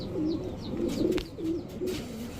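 Chuithal Babra pigeons cooing in repeated soft, rolling low calls close by, with a few faint chirps above and no talking.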